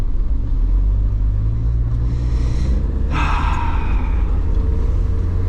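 A Mazda MX-5 Miata driven slowly on an open road, engine and road rumble steady and loud throughout from inside the car, with a couple of brief breathy sounds partway through.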